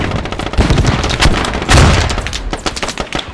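Squad video game combat, a frag grenade blast amid rapid bursts of rifle and machine-gun fire, loud, close and dense with sharp repeated cracks and a heavier boom partway through.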